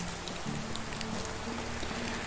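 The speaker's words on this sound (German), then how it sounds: "Es hat genug geregnet." Steady rain falls across the landscape in the medieval survival game Medieval Dynasty, a constant dense patter with no pauses and no voices over it.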